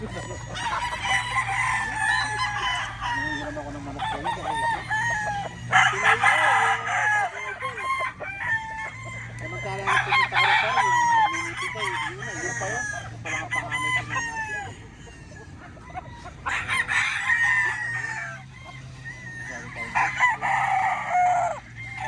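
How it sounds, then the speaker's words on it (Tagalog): Gamefowl roosters at a game farm crow again and again in long, loud calls, one after another over several seconds, with clucking and faint voices in the background between crows. "Daming manok."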